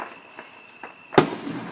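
A Fourth of July firework bursts with one sharp, loud boom near the end, after a few faint distant pops and a thin whistle-like tone in the quiet backyard night.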